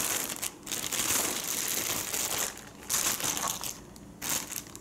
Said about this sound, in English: it's wrapped in a small plastic wrapper. So I'll just take them out.